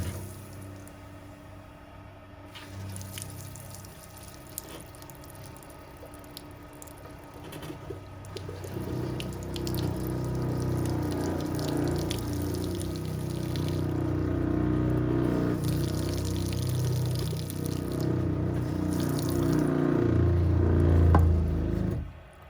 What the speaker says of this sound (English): Oh, now we got the shower.